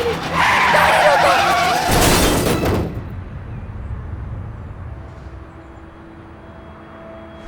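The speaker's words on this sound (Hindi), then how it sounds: "पेलिन, ये अचानक से गाड़ी के सामने आ गई।" A car skids to a sudden stop with a loud tire screech lasting about three seconds, then cuts off to a quiet, low background.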